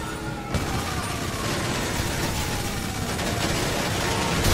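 A minigun firing continuously in GTA 5 Online, a dense roaring stream of rapid gunfire filling the whole stretch, loud and unbroken, with the barrage building slightly toward the end.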